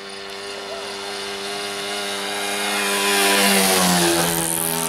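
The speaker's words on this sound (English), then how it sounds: "Now I'll do another fast flyby." An EcoTop Maracana RC plane with an OS FS 52 four-stroke nitro engine makes a fast flyby. The engine's loud, buzzing drone swells steadily and shifts in pitch as the plane passes close.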